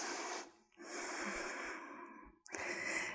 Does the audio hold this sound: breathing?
yes